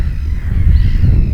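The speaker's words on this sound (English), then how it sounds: "But just listen to those birds, listen to the sounds" Birds call outdoors on a muddy beach at Snettisham at night, over a steady low rumble of wind or surf, with crow-like cawing and honking mixed into continuous background noise.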